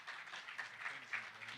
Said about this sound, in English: If you all give him a round of applause.